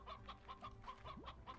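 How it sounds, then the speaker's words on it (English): Chickens cluck in the farming video game Slime Rancher, with short repeated clucks in a steady rhythm over a low background hum, fairly close and moderately loud. "I have chickens!"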